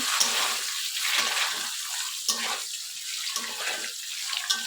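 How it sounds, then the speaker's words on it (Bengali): Eggs fry lightly in a pan for an egg curry, giving a close, crackling sizzle that surges in uneven bursts throughout. "ডিমগুলো এই যে ভেজে নিতেছি।"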